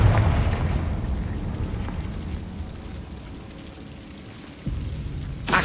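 Confringo fire-blast spell in the video game Hogwarts Legacy, a loud rumbling explosion that opens strong, decays into a long dark roar, then gives a second thump near the end.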